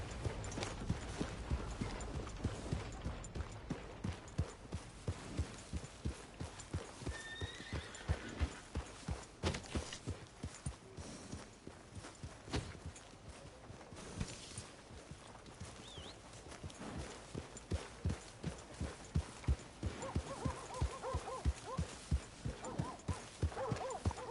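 A horse gallops in Red Dead Redemption II with a steady, rhythmic clip-clop of hooves throughout, broken by occasional neighs and whinnies, plus brief distant voices.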